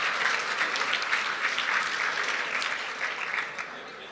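Warm, sustained applause from a gala fundraising audience for a hospital, a dense wash of many hands clapping that stays full and then eases off slightly toward the end.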